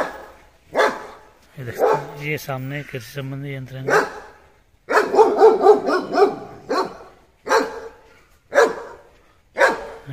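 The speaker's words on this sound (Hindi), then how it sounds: "ये जर्मन शेफर्ड कुत्ता है इनके पास।" A German Shepherd dog kept on a farm barks repeatedly at close range, in a quick cluster of loud barks followed by scattered single ones, while someone talks throughout.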